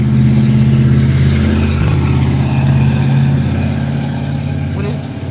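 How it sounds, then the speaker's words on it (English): A loud truck engine drones close by with a steady low rumble on a residential street, then fades gradually as the vehicle passes. "With his loud truck."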